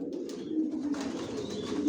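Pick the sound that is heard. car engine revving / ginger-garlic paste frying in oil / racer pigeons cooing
racer pigeons cooing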